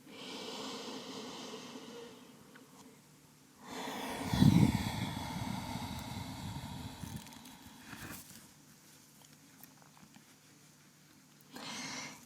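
Slow, deep breaths during a gentle yoga back-mobility session: a long, loud exhale in the middle, softer airy breathing around it and another breath starting at the end.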